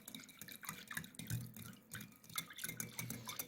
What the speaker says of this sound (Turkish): Maya eriyinceye kadar karıştırıyoruz.